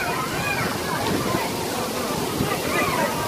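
Rushing, sloshing water from the water park aboard the Carnival Vista cruise ship, a constant loud wash of splashing with people talking over it.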